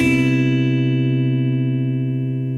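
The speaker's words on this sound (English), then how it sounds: "when I alter it now to a dominant 7 chord" A sustained guitar dominant 7 chord rings out loud and steady, its tones holding and slowly fading, with no talking.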